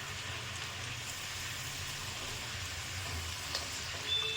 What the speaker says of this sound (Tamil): கொஞ்சம் கொஞ்சமாக போட்டு வறுத்துக்கலாம்.